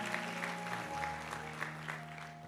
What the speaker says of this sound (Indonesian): Beri tepuk tangan, amin.